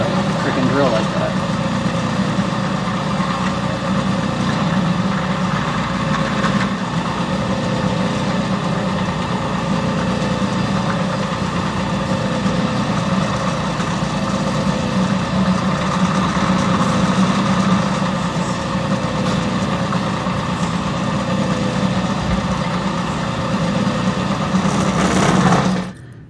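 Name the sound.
drill running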